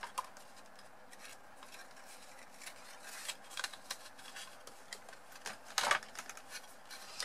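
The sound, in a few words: cutting paper card with scissors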